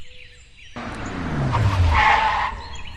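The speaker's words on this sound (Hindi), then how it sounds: "ये मैनेजर साहब की गाड़ी इतनी जल्दी क्यों आई है?" A cartoon car in a Hindi animation roars in and skids to a stop with a loud tire screech, the sharp swelling skid dominating before easing off.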